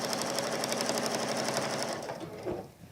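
A domestic sewing machine with a freshly changed needle and a metal presser foot stitches in a fast, steady whir close by, alone, then slows and stops near the end.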